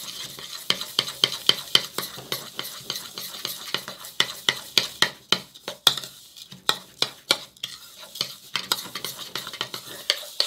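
A spoon stirs key lime pie mixture in a bowl with steady, rhythmic scraping clicks repeating about twice a second, close and fairly loud, with a soft hiss underneath and no talking.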